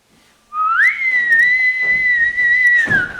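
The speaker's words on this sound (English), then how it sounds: "you do know how to whistle" A single sustained whistled note starts after a brief pause, rising then holding steady for a few seconds, clear and close.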